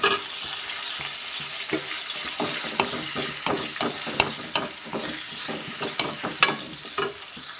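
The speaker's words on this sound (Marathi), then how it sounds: "सो हांवें हांगा 2 कांदे घालून घेतल्या, ते बरे अशे रोस्ट करून घेवपाक जाय" Two onions roasting in oil in a kadai over a gas flame, with a steady sizzle broken by repeated scraping stirs and small clinks of the spoon against the pan.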